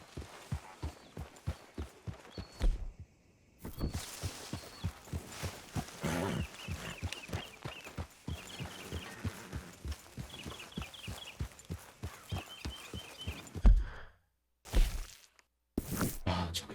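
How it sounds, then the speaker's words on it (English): Horse hooves clip-clop at a steady walking pace in Red Dead Redemption 2, with a run of regular thuds that pauses and resumes, close and moderately loud, under faint game ambience and a few brief louder knocks near the end. "What's that horse doing in here?"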